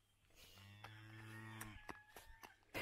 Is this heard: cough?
no